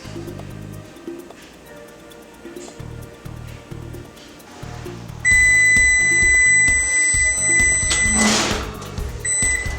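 A kitchen oven timer alarm goes off while an apple crisp pie bakes: a loud, steady electronic beeping tone starts about halfway through and rings on over low background sounds.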